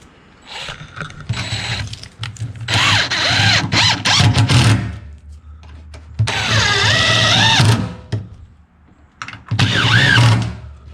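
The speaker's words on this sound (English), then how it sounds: "Okay, there's the drill." A power drill whirs loudly in three long bursts with short pauses between, its motor pitch rising and falling as it runs, nearby and alone, while building custom Coosa board hatches and decks.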